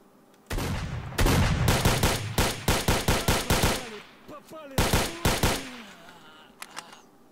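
Loud bursts of shotgun gunfire ring out in the video game STALKER: Shadow of Chernobyl, a rapid string of close blasts followed by a few sparser shots and faint distant pops, with no talking.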